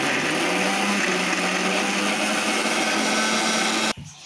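A mixer grinder churns garlic and spices into paste, a loud, steady, high-pitched whir running continuously for about four seconds before cutting off abruptly.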